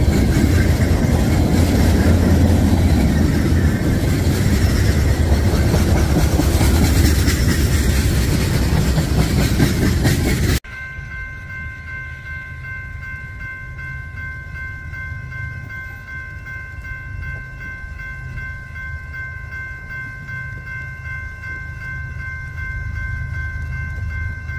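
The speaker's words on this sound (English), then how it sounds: "A little bit of trains in the rain." A westbound freight manifest train on the Emporia subdivision in Kansas passes in the rain, loud broadband rumble and rushing noise for about ten seconds, then dropping to a quieter steady rumble with a sustained tonal hum as the train continues.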